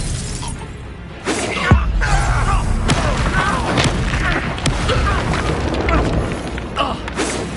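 Spell explosions and magical impacts from a Harry Potter video game duel, with a sharp crash near two seconds followed by continuous crackling, shattering and thudding combat effects, loud and busy throughout, with voices shouting under the clamour.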